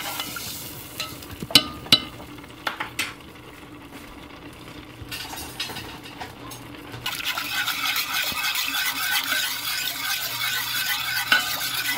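A spoon stirs flour frying in a pot for lentil soup, scraping and clinking in irregular strokes at first, then a steady sizzle rising and holding through the second half, near and alone without talk.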